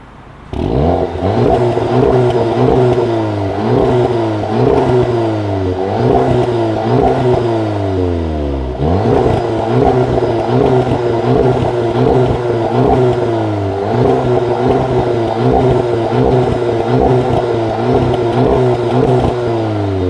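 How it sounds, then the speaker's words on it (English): An Audi TT Black Edition S-Line with its 2.0 TFSI engine revving repeatedly while stationary, loud and close, each blip climbing and then falling back to idle in a quick series of revs. "Come on, just do a quick little rev."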